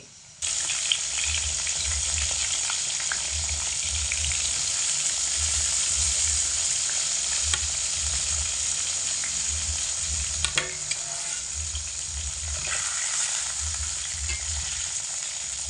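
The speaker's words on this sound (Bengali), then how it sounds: "আজ হাই আঁচে রেখে বেগুনগুলোকে ভেজে নিতে হবে" Steady, loud sizzling of eggplant frying in hot oil over high heat, with a continuous hiss and occasional pops and stirring scrapes, no voices.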